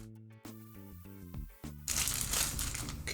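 Plastic carrying bag packed in a DJI Osmo Mobile 3 box being torn open: a few sharp crinkles and tugs, then a loud, sustained rip and rustle of plastic close by.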